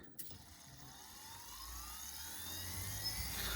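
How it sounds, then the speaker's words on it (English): Motor of an Eachine E150 RC helicopter at full throttle with a faulty spool-up, a faint, uneven whirring drone that rises slowly and wavers instead of reaching steady speed. "That's full throttle and the motor hasn't spooled up."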